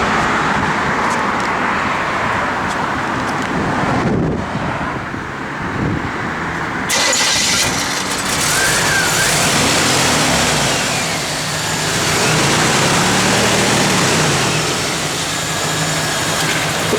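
A 1980 Chevrolet Camaro engine cranks and fires, then settles into a steady, fairly loud idle with slight swells in engine note, heard close by with outdoor background noise.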